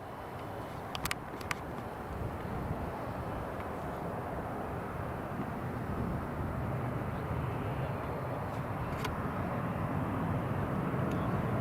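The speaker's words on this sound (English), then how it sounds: "next up is Jet 2 737-800, just on the approach now" A Jet2 Boeing 737-800, built in 2003, drones steadily on approach to land at Newcastle International Airport, a broad continuous engine roar that stays fairly even throughout, with a few faint ticks and no speech.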